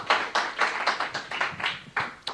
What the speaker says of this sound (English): A round of applause for Tom and Pedro for putting this together tonight